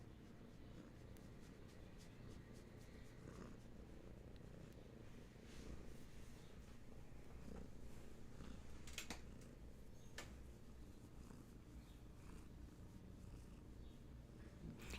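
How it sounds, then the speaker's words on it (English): A cat purrs softly and continuously, a low rhythmic rumble close by with a few faint clicks and rustles. "Oh, are you still purring?"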